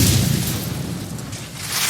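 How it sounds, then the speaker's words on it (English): A loud, sustained explosive boom from a rocket blast in World of Tanks, rumbling and roaring across the whole moment with no voices. "that was a rocket"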